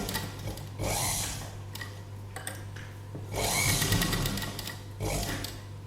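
A sewing machine stitches dori cord along a garment neckline in three short runs, with a voice talking over and between the bursts.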